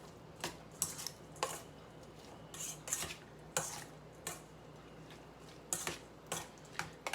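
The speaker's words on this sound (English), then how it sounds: "Then we're gonna give that a mix" Fresh salsa with salt and pepper stirred in a bowl, making repeated sharp clinks and taps of a utensil against the bowl, spaced irregularly over several seconds, close but soft, with no talking.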